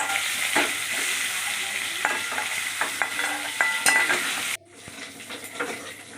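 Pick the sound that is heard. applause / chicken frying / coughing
chicken frying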